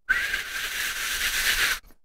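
A person imitates a computer fan's steady, high-pitched whistling noise at about 1200 RPM, holding it evenly for just under two seconds before it cuts off.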